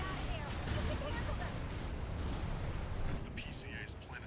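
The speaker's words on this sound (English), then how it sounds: "even with explosions close by" Rumbling explosions in the mech game Armored Core 6, a dense, roaring barrage of booms close by, heavy and continuous, with a voice speaking over the end.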